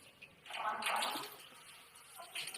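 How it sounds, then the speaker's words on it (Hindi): Water rushing through an instant gas geyser that won't ignite, a steady hissing flow that swells after a moment, eases off, then surges again near the end, with no burner whoosh. "अभी मैंने इसके पानी को ऑन कर दिया है, तो ये देखिए ये सिर्फ आवाज़ कर रहा है"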